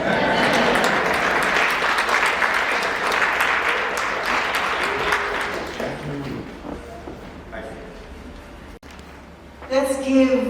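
An audience claps for an ambassador at a Jamaican Heritage Month event. The applause is dense and loud, then thins and fades into scattered claps and room noise near the end.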